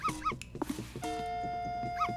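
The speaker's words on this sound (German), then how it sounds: "Oh nein, der Hund will was von mir" A cartoonish dog in Yoshi's Crafted World gives short, stylised bark-like yips, a few quick calls around a sustained chime tone, close and moderately loud.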